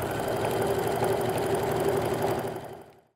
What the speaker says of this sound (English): I'm just going to make it work and sew the best I can.